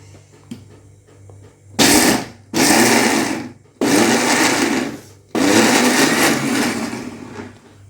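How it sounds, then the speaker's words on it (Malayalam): A kitchen mixer grinder grinding soaked lentils for parippu vada, starting with loud whirring bursts of roughly a second each, then longer runs with short pauses between, near and loud, without voices. "നമുക്ക് മിക്സി അടിക്കാം"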